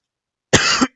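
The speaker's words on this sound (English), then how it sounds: "sorry, I coughed." A single short, dry cough from a person with a dry throat, close and fairly loud after a moment of silence.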